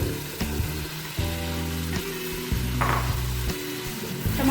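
Chickpeas and tomatoes frying in oil for chana pulao, a steady close sizzle broken by repeated knocks of a spoon against the pan.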